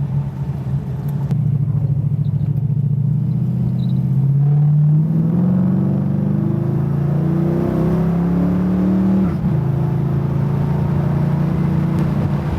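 A 1939 Buick restomod's engine revs and climbs through the gears to highway speed, rising rumble and whir heard from inside, steady and loud with no talking.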